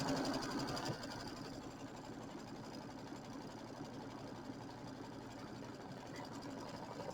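A Kimber sewing machine stitches satin stitches over raw fabric edges on a quilted bench project, with a soft, steady, fast mechanical whir and rhythmic needle chatter running throughout.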